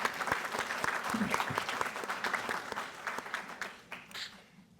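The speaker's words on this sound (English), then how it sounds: "Round of applause." An audience applauds at the Edison Rotary Club Student of the Year and Frontline Heroes ceremony as a student is called up, with dense, steady clapping from many hands that thins and fades near the end.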